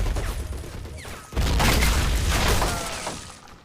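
Soldiers fire weapons in the World War II strategy video game Men of War, a dense, loud burst of gunfire and rumbling booms that swells, then gradually fades.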